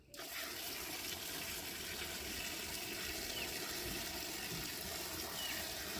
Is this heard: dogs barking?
no